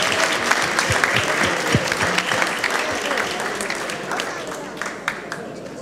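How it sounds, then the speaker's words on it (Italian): An audience at a choir and music festival applauds steadily with dense clapping that tapers slightly toward the end, with a few voices mixed into the crowd. "Un applauso."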